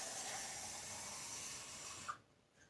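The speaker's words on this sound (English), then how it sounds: "We're just looking to kind of steam it." A faint, steady hiss of water steaming ramen noodles in a pot rises in a kitchen, then cuts off abruptly after about two seconds, leaving near quiet with no one talking.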